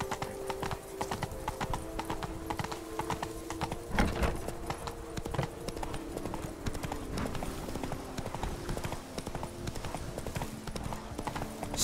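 Roach, Geralt's horse in The Witcher 3, trots with dense, close clip-clopping hoofbeats in a brisk steady rhythm that runs the whole way through, over a low ambient drone.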